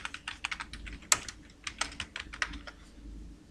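Clicky keystrokes on a computer keyboard while entering text into an Excel spreadsheet, an irregular run of close, quick taps with short pauses and one sharper key hit.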